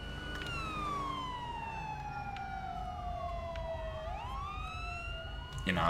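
A wailing ambulance siren in GTA 5 sweeps downward and back up, loud and steady over a low engine rumble, with a sharp burst of noise at the end.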